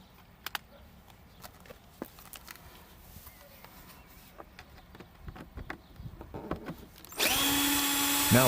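A power drill unscrews the screws of a car tail light housing, starting loud and close near the end after a stretch of scattered handling clicks and taps.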